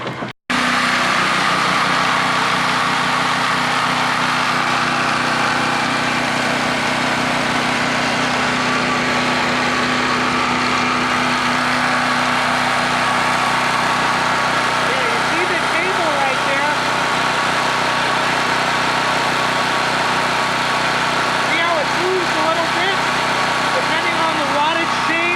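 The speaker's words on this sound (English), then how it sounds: "we're gonna go and see how the generator is doing" Portable generator engine running steadily for laundry power, a continuous loud droning hum with no pauses, heard up close throughout.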